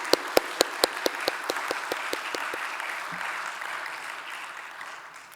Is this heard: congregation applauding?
yes